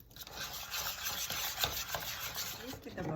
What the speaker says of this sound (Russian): Теперь мы сюда добавляем 50 грамм сливочного масла. Мягкого. Перемешиваем.